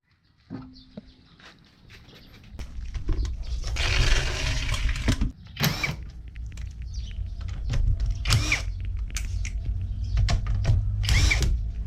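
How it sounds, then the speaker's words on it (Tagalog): A power screwdriver is used under a Honda Civic ESi during rubberized undercoating work, with whirring bursts of the motor mixed with scraping, clanks and rattling close by. "screwdriver na yung gamit ko"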